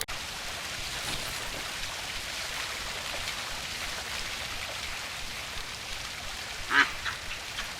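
A single short duck quack sounds near the end of the Spot & Stroll video game, heard over a steady hiss of rain on a surface.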